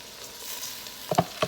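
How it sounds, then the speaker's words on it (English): Rice and onions frying together in a pot for a Caribbean cook-up rice, giving a steady soft sizzle and then a few sharp spoon clinks and scrapes against the pot near the end. "I like to fry up my rice a bit"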